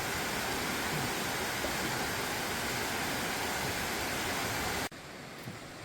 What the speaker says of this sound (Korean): 이거는 아들 폭포.